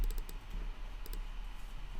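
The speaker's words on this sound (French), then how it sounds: "là, je fais Escape sur le clavier" A few light clicks from a computer keyboard key being pressed, Escape among them, sounding close, brief and sharp over a faint steady room hum, with no talking.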